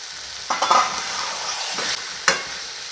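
Chicken sautéing for a Bengali do-pyaza curry is stirred in a pan, with a few sharp scraping strokes over a low, steady sizzle and no talking.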